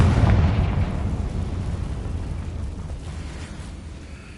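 A Confringo blasting curse detonates in Hogwarts Legacy: a loud, booming explosion right at the start that rumbles on and slowly fades away over several seconds, with no voices over it.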